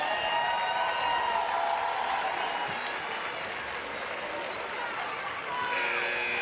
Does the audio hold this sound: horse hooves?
no